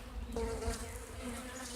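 Honey bees from a split swarm buzz around an open hive in spring, a steady close drone with individual bees whining past.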